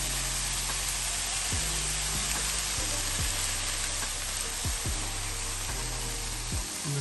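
Oil hisses and crackles on a hot Blackstone griddle beside seared burgers and onions, a steady close frying sizzle with a few light spatula knocks and no talking.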